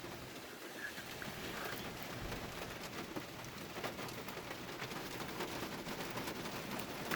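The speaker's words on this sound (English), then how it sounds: "Thought it'd actually be worse for how hard it's been raining." Heavy rain pours steadily during a thunderstorm in Littleton, Colorado, a dense, even hiss of drops on surfaces from start to end with no talking.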